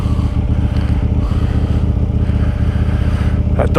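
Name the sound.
KTM Duke 890 GP motorcycle with Akrapovic exhaust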